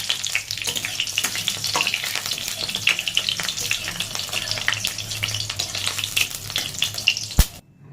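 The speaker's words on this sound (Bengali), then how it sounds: "তেলটা গরম হয়ে গেছে এবারে জিরে ফোড়ন দিয়ে নিচ্ছি আর দিয়ে নেবো শুকনো লঙ্কা আর তেজপাতা" Cumin seeds, dried red chilies and bay leaves crackle in a little hot oil, a dense close sizzle with sharp pops and stirring scrapes, ending in a sudden knock and quiet.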